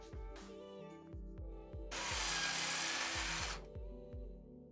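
A small electric screwdriver drives screws into a Corsair 4000x PC case: a series of quiet ticking bursts, then a louder whirring run of about two seconds, then more ticking, with no talking.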